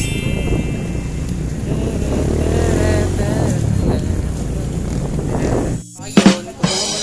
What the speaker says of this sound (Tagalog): Nakasakay na kami ng motor guys.